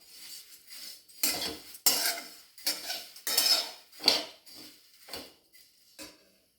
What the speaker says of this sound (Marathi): आता उडीद डाळ हलके भाजून घेऊया. हलकेसे पोहे भाजून घेऊ.